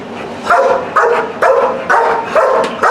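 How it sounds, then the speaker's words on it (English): A dog in a training session barks loudly and close by, six evenly spaced deep woofs in a steady rhythm with no talking. "Because if you look at Axel here and you see him barking at you"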